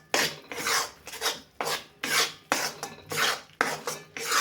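Gram flour for laddoos is roasted in a pan with chopped cashews and almonds, stirred in about eight rhythmic rasping scrapes, each a loud close sweep with short gaps between, with no talking.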